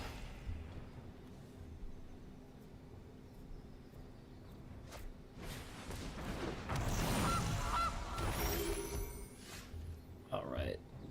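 A cartoonish goose honk sound effect from the digital card game MTG Arena sounds briefly near the end, over a busy game backdrop with voices.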